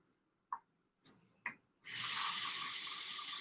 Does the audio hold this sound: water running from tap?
yes